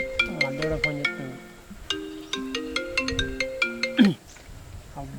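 A mobile phone rings with a bright, repeating melodic tone, playing a quick run of chiming notes over and over. It sounds clear and close, then cuts off after about four seconds with a brief fumbling noise.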